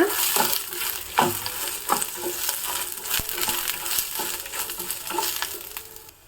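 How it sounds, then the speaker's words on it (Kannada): Flat beans (chapparadavare) fry in hot oil in a pan while a spoon stirs them, making an ongoing close sizzle broken by sharp scraping clicks and knocks against the pan. "ಚೆನ್ನಾಗಿ ಹುರಿಬೇಕು ಎಣ್ಣೆಯಲ್ಲೇ ಫ್ರೈ ಆಗಬೇಕು ಚಪ್ಪರದವರೆ ಚೆನ್ನಾಗಿ ಹುರ್ಕೊಳ್ಳೋಣ"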